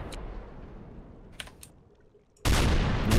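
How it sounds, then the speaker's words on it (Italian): Video-game gunfire in Fortnite played within Minecraft: scattered faint shots early on, then a loud, dense burst of rapid fire that fills the last second. "Sento spari. Sento spari."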